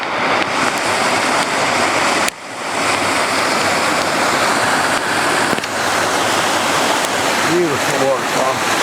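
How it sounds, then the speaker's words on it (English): A waterfall on the Jacks River rushes steadily, a loud continuous broadband roar of falling water with a brief dip partway through, briefly joined by a voice near the end. "Got a waterfall in the distance over there."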